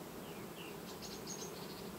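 Honey bees buzz steadily inside a strong August colony's hive, a faint continuous drone with no voices over it.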